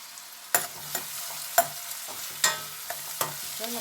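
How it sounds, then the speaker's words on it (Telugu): Chana dal cooking in oil in a pan, a soft sizzle under repeated spatula scrapes and taps against the vessel at an irregular rhythm, close and moderately loud, no talking. "మంచిగా ఆయిల్లో గోలాలి"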